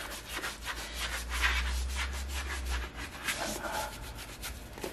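A magic eraser scrubbed briskly across a Red Wing 1907 leather boot, close rhythmic rubbing strokes repeating fast and evenly, with a low rumble under the first half.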